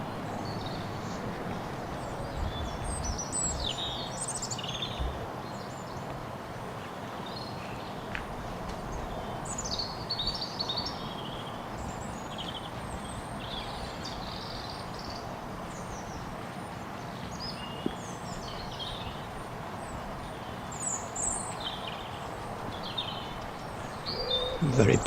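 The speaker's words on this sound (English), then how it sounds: "Very peaceful, just listening to all the birds." Scattered faint bird chirps and short song phrases come from the mixed trees along an old tramway woodland walk in Galloway, heard over a quiet outdoor background.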